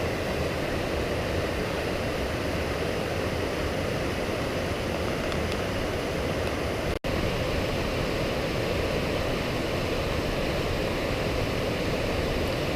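Water pours steadily down Indian Creek Falls, a broad slide-like cascade over a big rock on the Indian Creek Trail, a dense continuous rush, loud and close, with one sharp click partway through.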